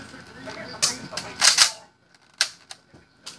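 A Nerf Z-Strike Vortex Fusefire toy blaster is worked and fired, producing several sharp plastic clacks and snaps, some close together and others spaced out, with brief quiet gaps and faint talking early on.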